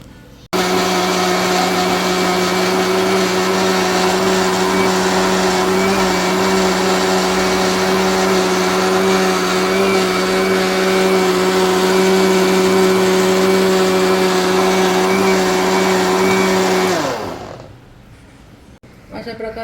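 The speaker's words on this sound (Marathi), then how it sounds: "याला आपण मिक्सरमध्ये काढून घेऊया" Mixer grinder whirring loudly and evenly as it grinds a thickened kesar ice-cream mixture into a paste, a steady motor drone running for about seventeen seconds before winding down and stopping.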